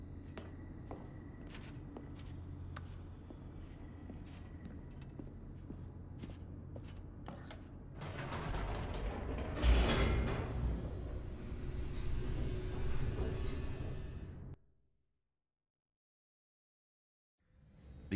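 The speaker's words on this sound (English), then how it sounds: "The elevator raced downward" Elevator descending in the video game The Stanley Parable: a steady low rumble that swells into a louder, rushing whoosh partway through, then cuts off abruptly into silence.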